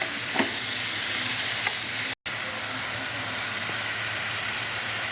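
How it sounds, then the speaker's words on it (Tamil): Bangalore tomatoes sizzle and fry with salt in a pan, a steady close hiss of sautéing that runs unbroken apart from one brief dropout, with no voices. "பெங்களூர் தக்காளினால ரொம்ப நேரம் ஆகும் வதங்கிறதுக்கு"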